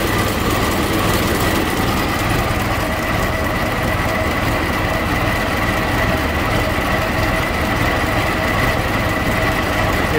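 A 1926 Ford Model T Touring engine idles steadily at close range with the side hood open, a continuous dense mechanical rumble and clatter running unbroken throughout with no talking.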